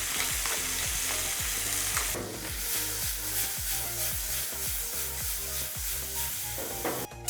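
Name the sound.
artichokes sautéing in butter in a pan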